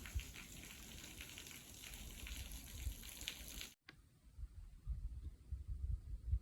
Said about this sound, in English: you can hear the water falling and you get the idea